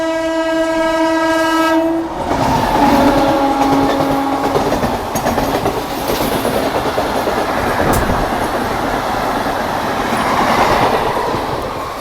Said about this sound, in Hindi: भाई सब मिक्सचर ट्रेन थी ये तो समझ लो, इसमें है जो है इंस्पेक्शन कार वगैरह सब लगा हुआ था